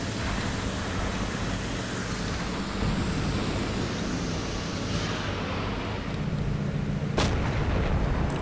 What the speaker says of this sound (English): First shot goes wide somehow